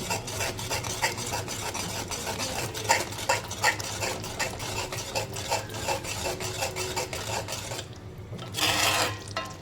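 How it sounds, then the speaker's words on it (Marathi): Gravy for a tender cashew-nut curry being stirred and sautéed in a pan over low heat, a run of scraping, rasping spoon strokes against the pan in a loose steady rhythm, close and fairly quiet, with no talking. "तर ह्या ग्रेव्हीला असंच आपण परतवत राहायचं."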